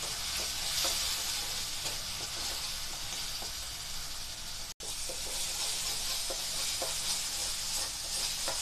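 Mustard masala paste for an Odisha fish curry frying in a pan, a steady bright sizzle with occasional stirring scrapes, close and loud throughout, broken by one brief cut midway.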